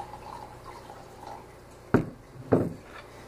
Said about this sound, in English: What I am going to do is pour another small sample.